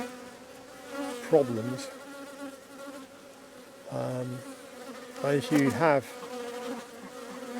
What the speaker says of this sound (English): you wind up with a lot of bees zinging about and upsetting everybody.